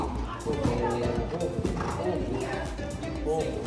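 A horse cantering outdoors, hooves thudding on the ground in a steady rhythm with a whinny, while people talk over it.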